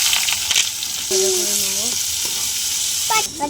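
Chopped onion, dried red chillies, cardamom, cinnamon and bay leaves frying in hot oil for a Bengali doi rui fish curry, a steady close sizzle with a few stirring scrapes and clinks.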